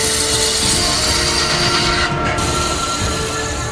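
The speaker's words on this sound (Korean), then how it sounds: "나무에 고정시킨 유기의 바깥면과 안쪽 면을 깎아내는 작업." A steady, loud shaving drone as a cutting blade pares the outer and inner faces of a brassware bowl mounted on wood on a lathe, continuous and close with a brief dip near the middle.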